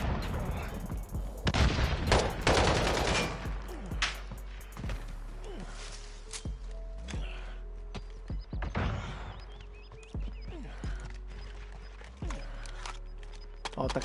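Weapons fire in a Call of Duty: Modern Warfare multiplayer match: sharp, close gunshots and rapid bursts come thickest early on, then thin to scattered shots and mechanical clicks, with someone talking over them.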